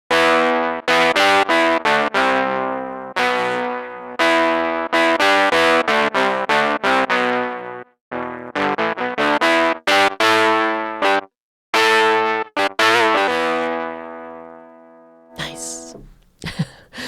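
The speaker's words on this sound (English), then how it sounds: "power chords fuzz. It's through the rhythm and sound with a fuzz effect" Fuzz-distorted power chords from a 1965 Mello D Maker guitar ring out in a rhythmic sequence, heavy and gritty, with short bursts, sustained chords and brief gaps, played loudly and without any talking.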